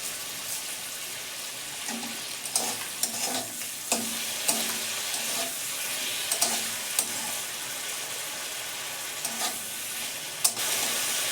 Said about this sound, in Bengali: আমার পেঁয়াজ টমেটো ভাজা হয়ে গেছে